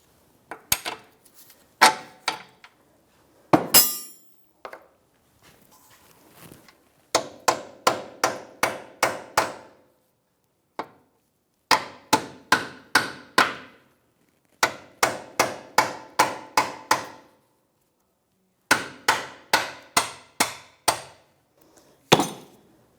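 A hammer taps a bolt into the lower control arm of a 2009-2014 Nissan Maxima, with sharp metallic strikes in close, rapid bursts of five to eight separated by short pauses, loud and near with no talk.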